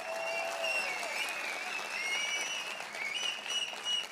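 A crowd at a political rally claps steadily, dense and even applause heard from a distance and fairly faint, continuing for several seconds with no speech over it.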